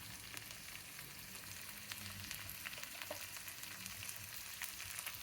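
Onions with a little salt frying in a pan for okra stir-fry, a faint, steady crackling sizzle throughout with scattered small pops, no talk.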